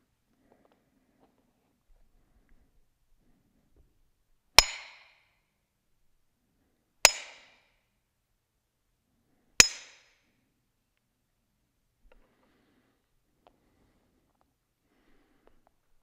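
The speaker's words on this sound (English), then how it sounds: "I hope you could hear the hammer striking." Three sharp, ringing hammer blows strike nails at slow, evenly spaced intervals in a quiet room during a Good Friday service, each hit loud and close with a brief metallic decay.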